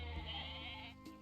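Sheep in the Age of Mythology strategy game bleat once in a short, nasal cry that sits over a quiet, steady game background with a faint hum, and no one speaks.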